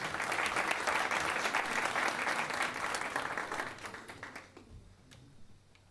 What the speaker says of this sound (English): give him a huge round of applause as well